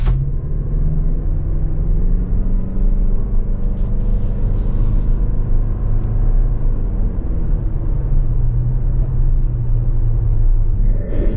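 A 2024 Toyota RAV4 Hybrid Woodland Edition on all-terrain tires pulls away, a steady loud low rumble of road and tire noise with a gently rising drone, continuous and close throughout.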